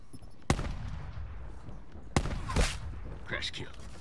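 Two sharp, loud gunshots in a shooter game, spaced about a second and a half apart, ringing over game noise while a person talks.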